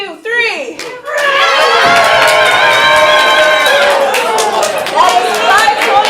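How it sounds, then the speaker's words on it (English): Audience at a ComedySportz improv comedy show in Portland breaks into sustained clapping and cheering after a brief vocal moment, a dense, loud crowd wash that holds steady to the end. "Everyone else can clap, cheer, point, try to influence the judges."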